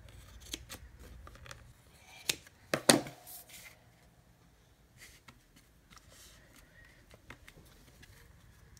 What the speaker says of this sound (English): But I just go through and cut it off.